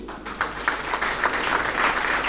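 A dense, steady wave of audience applause fills an awards ceremony hall at the first Pool Malebo Music Awards, loud and continuous throughout with no break.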